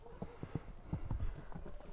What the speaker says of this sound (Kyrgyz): Эми бир-эки баскандарынан көрөлү, бастырып көрөлү.